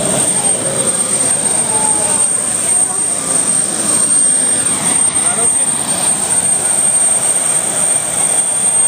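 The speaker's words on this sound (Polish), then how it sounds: "taki samolot, kochanie, to jest." A small airplane roars steadily and loudly overhead, a dense continuous engine drone with a high whine throughout, while a voice speaks over it.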